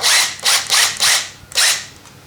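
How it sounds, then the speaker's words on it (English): A cordless grease gun runs in four short motorized bursts with brief pauses between, close and fairly loud, with no voices. "And now I have a cordless grease gun that"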